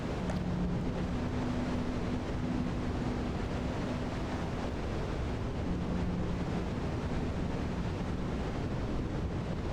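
Constant roaring wind from a winter storm in a video game, a dense, unbroken whoosh with faint faint tonal hums drifting in and out beneath it.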